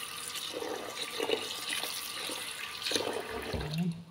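Rice being washed by hand in a bowl of water at a kitchen sink, a continuous wet swishing and trickling with a few louder splashes, close and alone.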